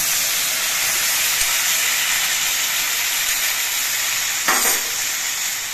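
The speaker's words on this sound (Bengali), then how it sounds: "এবার আমি এই বাটির মধ্যে হলুদ আর জিরে গুঁড়ো গুলে রেখেছিলাম সেই মশলাটা দিয়ে দিচ্ছি" Turmeric and cumin spice paste hits a pan of frying eggplant and potatoes, giving a steady close sizzle and hiss with a brief louder burst of spitting near the end, no talk.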